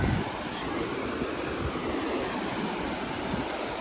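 Sea waves wash onto a beach in a steady, loud roar of surf and spray, with wind buffeting the microphone and no clear voices.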